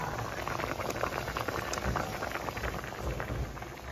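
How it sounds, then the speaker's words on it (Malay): Water boiling steadily in a pot while pomfret fish is being steamed, a continuous bubbling hiss with soft patter that stays even and fairly close throughout, with no talk over it. "saya rebus dia dulu."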